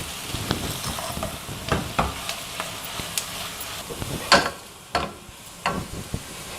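Cabbage and capsicum fry in a salted pan for cabbage rice, giving a steady close sizzle broken by scattered sharp stirring scrapes and clicks, with no talking.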